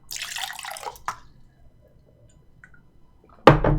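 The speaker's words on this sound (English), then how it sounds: "I'm going to have to pour it live on camera" Water poured into a container, a burst of splashing at the start, a brief splash near one second, quiet, then a loud close pour starting again near the end.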